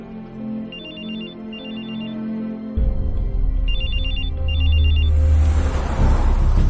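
A telephone rings in repeated double trills while a call is placed, clear and fairly close, before a low rumbling ambience swells underneath.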